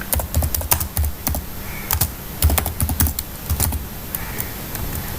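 Rapid, uneven keystrokes on a computer keyboard while code is typed for a Flutter lockscreen interface, clicking in short bursts with brief pauses, close and clear with no talking.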